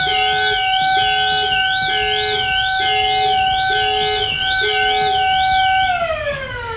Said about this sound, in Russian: Включается штатная система и идет тревога дополнительной системы.